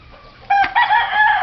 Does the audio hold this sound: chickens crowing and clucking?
yes